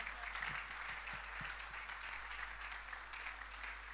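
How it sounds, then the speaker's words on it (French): Faint, distant applause fills a church couples' meeting as the gathering claps for the Lord, an even patter of hands with a low hum beneath and no clear talk. "Merci pour les mains. On acclame le Seigneur."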